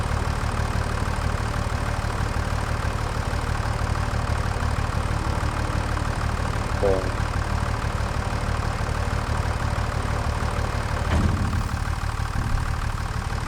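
A tractor engine idles in the video game Farming Simulator 25 during a wheat harvest: a steady, low, droning rumble, even and continuous, with a brief faint mechanical clunk near the end.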